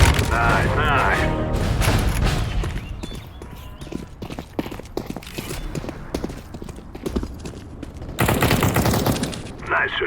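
Rapid bursts of gunfire and clattering footsteps fill a Counter-Strike: Global Offensive team deathmatch on the Cobblestone map, loud and close with uneven pauses and a heavy sustained burst near the end.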